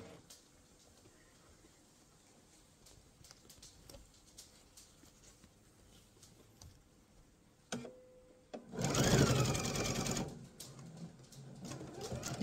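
A sewing machine stitches through a mesh tote bag pocket, with a faint, steady, quiet run before a loud, close burst of rapid stitching as the fabric gets thicker.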